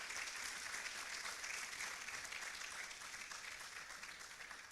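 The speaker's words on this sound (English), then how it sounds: "A round of applause for them." Audience at an inaugural African congress for architecture students applauding lecturers and professors, a sustained, fairly distant roar of clapping that holds steady and then tapers slightly toward the end.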